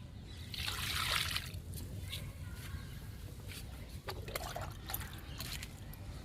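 Liquid fertilizer poured onto potted vinca plants in pink, white and red, a steady trickle and splash of water close by, swelling early then continuing in softer dribbles.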